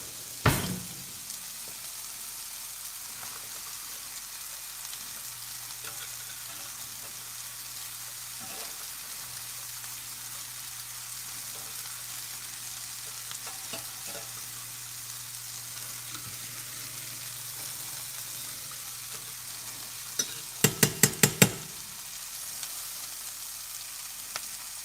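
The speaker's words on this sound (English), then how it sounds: "I get to bring the heat down on these onions a little bit." Onions frying in a pan with a pinch of baking soda give a steady soft sizzle under a low hum, followed by a quick cluster of spoon clinks and knocks near the end.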